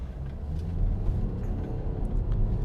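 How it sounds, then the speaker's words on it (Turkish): Mercedes GLK under full throttle from a standstill, a dense, low engine roar heard from inside the cabin for a few seconds. "Güneşe karşı 0-100. Tip gaz yaptım."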